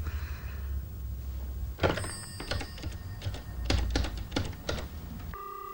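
A telephone is dialed in a quiet room, with a short run of close clicks and taps followed by a faint electronic tone at the end, with no talk.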